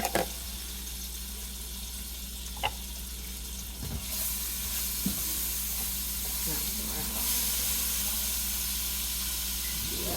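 Unsalted butter hits a very hot pan just after salmon has been cooked in it, and a hissing sizzle rises and then holds steady, with a few sharp clicks and clatters from the pan.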